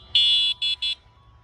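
An Ausom electric scooter's turn signal gives three clean electronic beeps, one long then two short in quick succession, loud and close in a quiet room.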